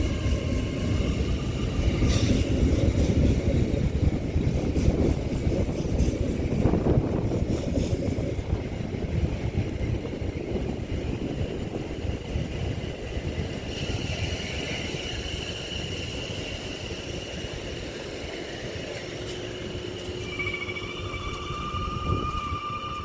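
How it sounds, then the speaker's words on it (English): A Great Western Railway Class 800 unit, 800-013, rolls into Reading station with a sustained low rumble and whine of traction equipment, steady and fairly close, easing slightly as it slows. "Arriving in on my right is 800-013 for Great Western Railway, which is heading off to Carmarthen from London Paddington."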